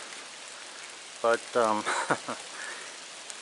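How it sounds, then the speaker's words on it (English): Light rain falls outdoors at a work site where a Ford 550 backhoe loader is being repaired: a faint, steady patter and hiss under the whole stretch, with a brief spoken phrase in the middle. "it's starting to rain a little more now"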